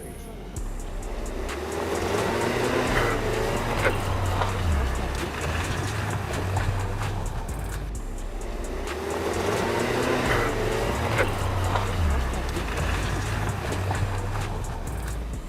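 A Skoda Kodiaq straining on a steep off-road slope, its engine droning low and steady with wheels spinning and tires failing to grip, a continuous loud rumble with faint outdoor noise.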